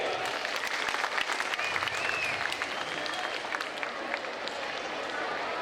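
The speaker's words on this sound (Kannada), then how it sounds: "ನಿಮ್ಮ ಹೃದಯ ತುಂಬಿ ಚಪ್ಪಾಳೆ ಬರಬೇಕು ಇದಕ್ಕೆ" Audience at a school event gives sustained, dense applause, a steady wash of many hands clapping that continues evenly throughout without a break.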